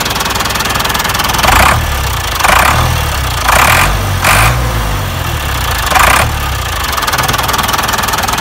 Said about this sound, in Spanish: acá tenemos al querido Perkins trabajando con el compresor ahí